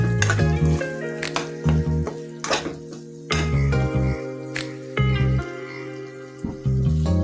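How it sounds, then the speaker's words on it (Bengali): Chicken fries in hot oil for a home-style biryani, a steady sizzle broken by repeated metal clanks and scrapes of a spatula stirring in the pan, close and fairly loud. "তেলের মধ্যে মুরগিটা ভেজে নিচ্ছি।"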